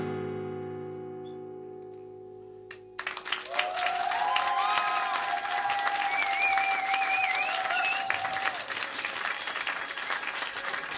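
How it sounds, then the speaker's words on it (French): An audience at a live concert in Bordeaux breaks into loud, sustained applause after the music fades, with a few cheers and whistles rising over the dense clapping. "on les applaudit"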